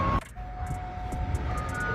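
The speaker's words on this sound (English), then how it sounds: "There's an ice cream truck" An ice cream truck in upstate New York, a Mister Ding-A-Ling van, plays a steady, sustained chime tune that carries on for the whole span over traffic rumble and a busy background.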